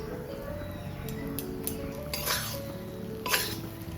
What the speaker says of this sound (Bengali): আর সবজি দিয়ে মিশিয়ে নেব